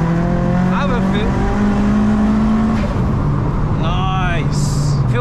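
A 450bhp turbocharged Vauxhall Astra Mk4 with a Saab engine drives along with a steady, loud engine drone and a rising tone, heard from close by while people talk over it.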